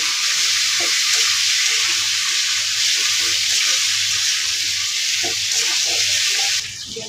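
Chunks of potato and taro fry in a pan with a loud, continuous sizzle and hiss, while soft stirring knocks and scrapes recur underneath until the sizzle drops slightly near the end.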